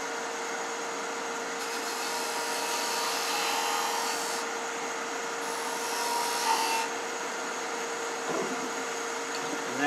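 A parting tool cutting wood on a lathe, with a steady motor hum under bursts of scraping hiss as the tool is guided into the spinning workpiece, pausing between passes.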